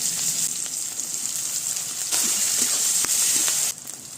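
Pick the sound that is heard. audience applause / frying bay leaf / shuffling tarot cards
frying bay leaf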